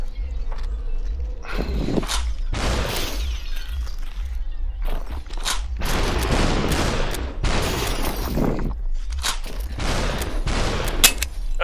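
Gunfire and shattering glass from the VR game SUPERHOT VR in endless mode come in dense bursts, with sharp repeated shots and breaking crashes over a steady background.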